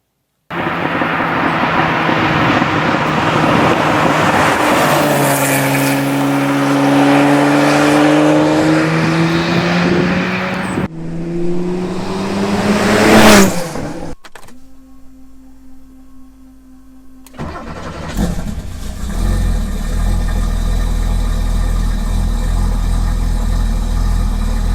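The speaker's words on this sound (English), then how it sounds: "Oh, the rumble of air-cooled goodness." An air-cooled Porsche turbo engine rumbles and revs up close, climbing and dropping in pitch through several loud sweeps, with a brief quieter idle between pushes and no talk.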